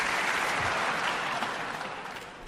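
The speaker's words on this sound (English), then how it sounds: "You guys are just applauding for everything, it's great." An audience claps steadily at a live talk, a soft, distant wash of applause that holds for a couple of seconds and then slowly tapers off.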